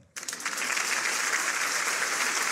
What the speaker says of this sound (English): Let us give a big round of applause for everyone.